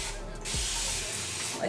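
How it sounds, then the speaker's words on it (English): A squirt-type spray bottle soaking hair for a curly wig, one sharp hissing burst of water that starts abruptly and then fades out. "spray bottles, because it really just soaks the hair quick."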